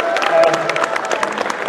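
A convention panel audience at Comic Con Brussels breaks into loud, continuous applause with crowd noise mixed in, and a steady tone runs underneath the clapping throughout.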